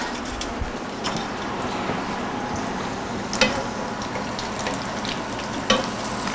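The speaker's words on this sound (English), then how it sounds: "You want to keep that nice sizzle going with your oil." Steady oil sizzle from frying breaded eggplant, a continuous crackling hiss with a few sharper pops, fairly close, no voices.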